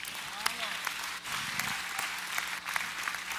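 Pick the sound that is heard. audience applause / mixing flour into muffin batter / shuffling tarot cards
audience applause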